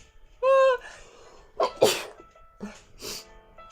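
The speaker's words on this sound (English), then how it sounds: "Oh, I'm gonna sneeze, sorry." A single loud sneeze up close, with a brief voiced lead-in and a sharp burst, followed by a softer breathy sound.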